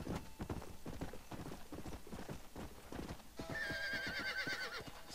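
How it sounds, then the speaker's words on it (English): Galloping horse hooves in Red Dead Redemption, a steady rapid clip-clop rhythm with a whinny, ambient game sounds and a rising whistle-like tone joining near the end. "Stop, horse, please stop."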